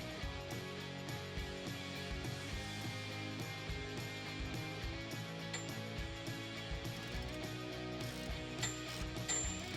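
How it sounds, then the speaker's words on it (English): A ratchet with a 21mm socket clicks steadily while tightening the track bar flag nut on a Jeep Wrangler JL during a Teraflex 2.5 in. lift kit install. The pawl ticks in a continuous close, even run with no talking. "we can just tighten that down all the way with a 21mm socket"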